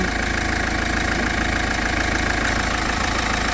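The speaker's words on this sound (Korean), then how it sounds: "CRGI 16V 엔진입니다." A Kia Sorento R 4WD with a 2.2 CRDi 16V diesel engine idles in a loud, steady, close drone with an even knocking clatter running unbroken throughout and no voices.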